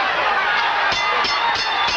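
Boxing crowd at Caesars Palace rising at the final bell of the Duran versus Minchillo fight, a steady broad roar of cheering and applause with sharp claps and shouts cutting through the dense hubbub.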